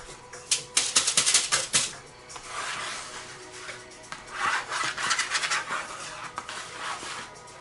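A razor blade scrapes acrylic paint across paper in close, dry rasping strokes, a quick run of sharp scratches followed by a longer stretch of steady scraping, heard alone without speech.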